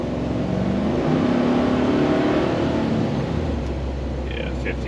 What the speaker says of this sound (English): let's hop on the highway and get some speed going here